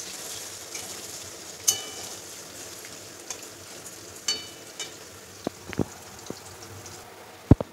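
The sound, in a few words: onions frying in oil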